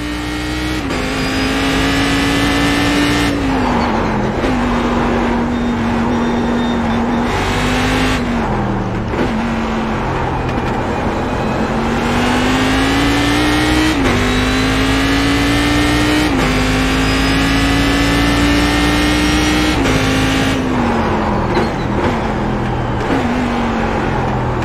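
A Cadillac CTS-V race car in iRacing at the Nordschleife, its engine roaring loud and close throughout, pitch climbing through the gears with repeated shifts and short lifts, while another car races alongside for position.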